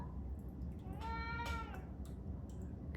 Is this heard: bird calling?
no